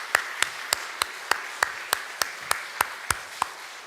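A church congregation at a Korean Sunday worship service claps together in unison, a steady, evenly spaced beat of about a dozen crisp claps, moderately near and clear over a quiet room.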